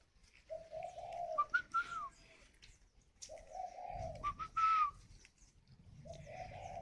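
A nesting spotted dove gives two soft, rhythmic cooing phrases close by, each a run of low hoots rising to a higher note, with quiet pauses between them.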